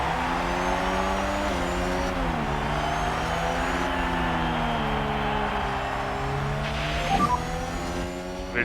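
Formula 1 cars from the 1993 season roar off the line at the Austrian Grand Prix start in the F1 Manager 22 game, a dense, continuous engine drone with rising and falling harmonics as revs climb through gears, with a brief sharper burst near the end.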